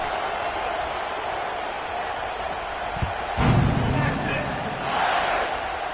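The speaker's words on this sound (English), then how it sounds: "this crowd is buzzing after that last score" A college football stadium crowd buzzes in a continuous broad murmur after a score, swelling briefly louder midway, with an announcer talking over it.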